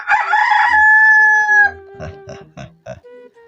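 A rooster crows once, loud and close, with a long sustained call, followed by a few short clucking grunts; no voices.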